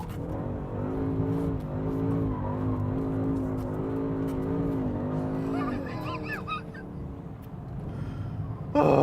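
A sports car engine drones and revs steadily at close range, then tires squeal briefly near the end, with a sharp burst at the very end.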